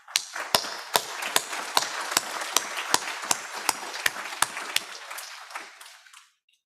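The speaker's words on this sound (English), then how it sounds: "So help me with a big applause to thank them all." Audience clapping at a Sunday satsang gathering, dense steady applause from many hands with sharp individual claps standing out, sustained for several seconds before tapering off.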